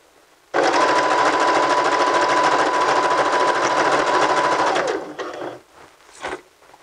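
A sewing machine runs steadily for about four seconds, stitching a zigzag seam in fabric with a fast, even mechanical whir, then stops, followed by a few faint handling noises.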